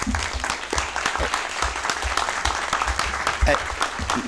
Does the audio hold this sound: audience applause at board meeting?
yes